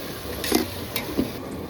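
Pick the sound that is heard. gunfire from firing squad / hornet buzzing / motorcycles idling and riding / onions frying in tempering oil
onions frying in tempering oil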